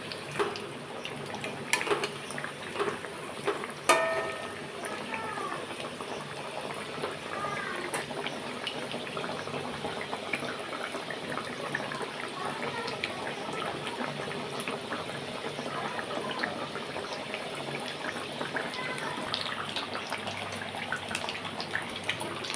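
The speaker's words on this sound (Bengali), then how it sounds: "আমি দুটো দুটো করে ভেজে নিচ্ছি।" Chicken cutlets fry two at a time in hot oil, giving a steady, dense sizzle and crackle that runs unbroken throughout at moderate volume, with a few brief louder bumps near the start.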